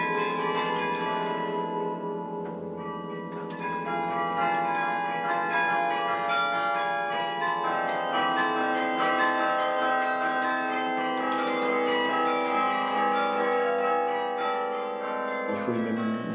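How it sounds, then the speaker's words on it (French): Carillon church bells, played with the fists on the keyboard, ring out continuously, many bells including the heaviest struck in quick succession with rich, overlapping tones sustaining throughout. "C'est d'ailleurs pourquoi Stefano joue avec les poings, pour être sûr de faire sonner toutes les cloches"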